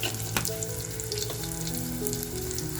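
Garlic and a pinch of asafoetida drop into hot oil and set off a loud, steady sizzle close by, with one sharp crackle at the start and a faint tonal hum underneath.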